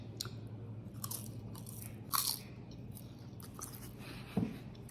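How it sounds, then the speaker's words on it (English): A crispy, chip-like snack topped with pink Himalayan salt is crunched and chewed close up, giving a steady stream of soft crackly bites with two sharper crunches standing out, and no talking. "Satisfying, healthy crunch."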